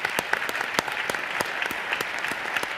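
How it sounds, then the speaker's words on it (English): Audience applause at a professional gathering of Black women, with individual claps standing out sharply over a steady wash of clapping throughout. "So I want everyone to give yourselves a round of applause."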